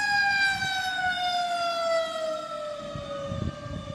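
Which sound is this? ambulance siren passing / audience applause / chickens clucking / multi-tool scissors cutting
ambulance siren passing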